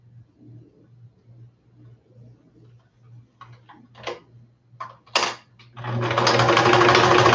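A sewing machine stitches fabric for a butterfly craft. First come faint ticking and a low hum with some clicks and bumps, then the machine runs in a loud, steady whirring burst near the end.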